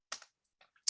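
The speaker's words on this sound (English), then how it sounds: "So I'm typing in now this command here." A few quick keystrokes on a computer keyboard as a command is typed, sharp close clicks spread unevenly over under a second.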